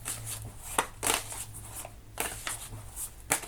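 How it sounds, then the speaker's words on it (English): Tarot cards shuffled by hand in short, scattered riffling bursts, fairly quiet against a low steady background hum, with no talking. "You just watched me shuffle for a long time."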